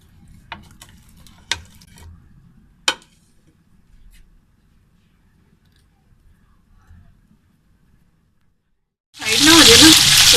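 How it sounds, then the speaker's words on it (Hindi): Chicken marinated in garlic, ginger and salt goes into hot oil, opening with a few soft clicks and knocks over near-silence before a sudden, loud, close sizzle bursts in for the final second. "ऑयल में फ्राई करने लगी हूँ"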